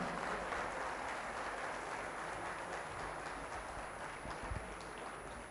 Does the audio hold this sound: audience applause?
yes